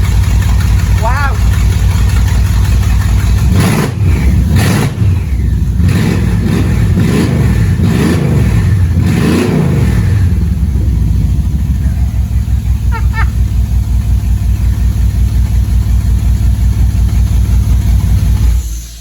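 A Mercedes E63 AMG twin-turbo V8 fitted in a 1969 Mustang fires up and revs several times in sharp bursts, then settles into a steady, loud rumbling idle.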